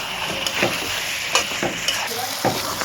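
Chicken sautéing in oil in a pan for a kosa curry, with a steady close sizzle broken by several sharp scraping stirs at a slow, uneven rhythm.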